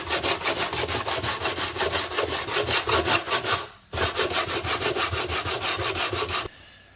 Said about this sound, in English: 60 grit, just to get this wood filler off.